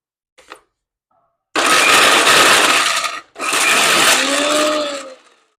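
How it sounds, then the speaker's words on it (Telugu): A kitchen mixer grinder chops coconut pieces in two loud, whirring bursts, the second following a brief pause, each ending as the motor winds down. "ఒక్కసారి గ్రైండ్ చేసుకుందాం"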